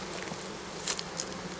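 Soft, steady buzzing of honeybees at a hive, with a couple of brief louder passes as individuals fly close.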